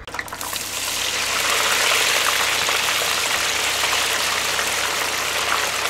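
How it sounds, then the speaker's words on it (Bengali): Cut potatoes hit hot oil in a home kitchen for a Bengali boal fish curry: a quick burst, then a loud, constant close sizzle that holds steady throughout. "তারপরে আলুগুলো দিয়ে ভালো করে ভেজে নিলাম।"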